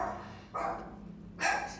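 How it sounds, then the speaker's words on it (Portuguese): A dog barks during an online math lecture: two short, moderately loud barks about a second apart, heard faintly in a quiet room with no talk over them. "E a minha Felícia está latindo, tá"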